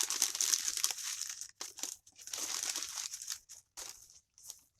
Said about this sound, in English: start off with a couple sheets of paper, bunch it up like this, and keep throwing them in.